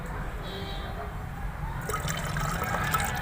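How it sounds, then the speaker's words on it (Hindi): Water poured into a bottle while making jeevamrut organic fertilizer trickles and splashes steadily, growing a bit fuller and louder toward the end, close by with no talking. "बाकी हमें इसमें पानी ऐड करना है।"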